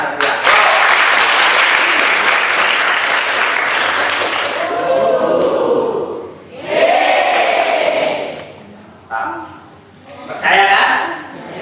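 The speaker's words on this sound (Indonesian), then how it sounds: "Tepuk tangan yang mulia." A congregation at a holiday Bible school session claps loudly for several seconds, then the applause gives way to voices calling out and cheering in bursts.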